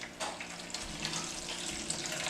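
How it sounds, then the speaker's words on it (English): About a cup of water pours into a beef chuck pot roast in its pan, a steady splashing stream with a bright hiss that runs continuously and close. "So now I'm gonna put like a cup of water"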